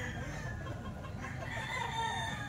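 Rooster crowing nearby, a drawn-out call over a steady noisy background, with some clucking.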